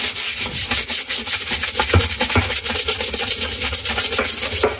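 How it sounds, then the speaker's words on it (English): A small scrubber is rubbed back and forth inside the tub of a Maytag Bravos MCT top-load washer, giving a fast, rhythmic scratchy scrubbing heard close and loud with no talk. "Little scrubber action here."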